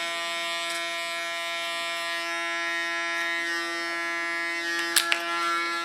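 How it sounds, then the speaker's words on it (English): An electric hair clipper buzzes steadily and close, held flat against a head to clean the contour of an ultra-short cut, with a couple of brief sharp clicks near the end. "Clean the contour by holding the clipper flat on the head."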